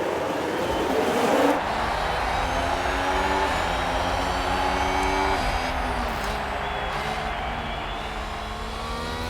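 Game F1 cars from F1 Manager 1991 launch off the grid at the Austrian Grand Prix, a dense, loud wall of engine noise with rising whining tones as the pack accelerates together, sustained without talk.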